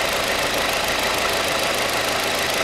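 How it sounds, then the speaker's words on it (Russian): Hyundai Accent 1.5 engine running rough with a steady loud broadband roar, idling near the microphone with misfire knocking and backfire pops under constant engine noise, no talking. "Вот сейчас видно, опять начал уже простреливать."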